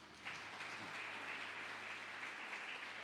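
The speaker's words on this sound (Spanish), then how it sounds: "Si lo crees, dale un aplauso al Señor." Church congregation applauding the Lord during a Spanish-language sermon, a steady sustained wash of clapping that starts abruptly and holds evenly throughout, fairly soft and diffuse as if heard from across the room.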